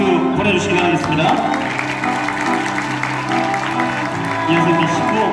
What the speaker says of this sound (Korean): 박수 보내주시기 바라겠습니다.